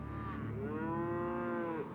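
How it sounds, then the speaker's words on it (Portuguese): A single long, loud cow moo, close and drawn out, rising and falling in pitch over about two seconds. "E elas ficam mugindo e fazendo barulho para nos comunicar que precisam de atenção."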